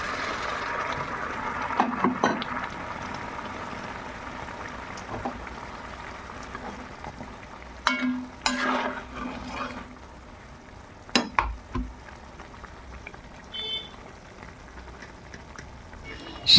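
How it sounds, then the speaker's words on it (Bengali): Soybean curry fries and sizzles in a pan as hot water is added, a soft steady hiss with scattered spoon scrapes and clinks of stirring, fairly quiet and close. "এবার এর মধ্যে দিয়ে দিচ্ছি পরিমাণ মতো গরম জল।"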